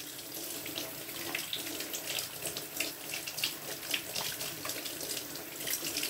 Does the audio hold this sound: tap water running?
yes